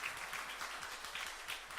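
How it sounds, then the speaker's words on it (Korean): A church congregation claps steadily for a short burst, an even patter of many hands in a reverberant hall. "우리 두 분 다시 한번 환영하고 축복의 박수 올리겠습니다"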